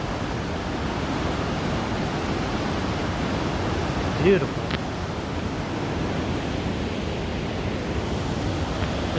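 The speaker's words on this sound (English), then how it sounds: "that water is coming fast and furious" Fast-flowing water of Whatcom Creek in downtown Bellingham, Washington: a loud, steady broadband rush that fills the whole scene, with a brief spoken word partway through.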